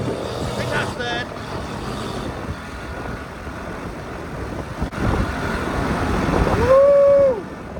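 A classic Honda Cub C70 motorcycle is ridden through its gears, its engine droning continuously with rising revs and a shift near the end, recorded on board amid wind noise, with a rider talking over it.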